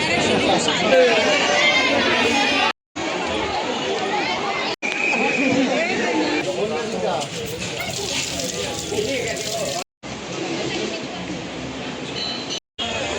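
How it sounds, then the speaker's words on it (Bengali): Dense crowd of worshippers at Bhoothnath temple during Shravan Monday puja, a constant loud babble of many overlapping voices close around, broken by a few brief cuts. "শুধু ভিড়টা দেখো যেখানে পুজো দিচ্ছে"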